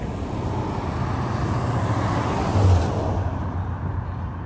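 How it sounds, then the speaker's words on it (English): Holiday-season street traffic in the small towns of Copperhill and McCaysville makes a continuous roadway roar. A vehicle passing nearby swells briefly louder partway through. "Traffic's a little busy right now."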